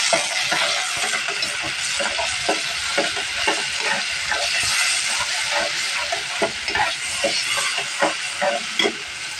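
Onion-garlic paste hits a hot pan of oil while cooking a boal fish curry, giving a steady loud sizzle and hiss broken by repeated stirring scrapes and clinks throughout.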